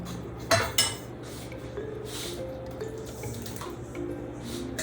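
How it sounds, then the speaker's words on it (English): Egg mixture being poured into a baked pie crust in a kitchen, with a couple of sharp clinks of dishes and utensils followed by a steady soft pouring and liquid sound. "And now we're going to add our egg mixture."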